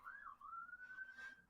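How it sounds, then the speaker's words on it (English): Police car siren in New York passing outside, a single clear wailing tone that rises, dips and holds steady, fairly faint and distant with no voices. "the wonders of sirens going by"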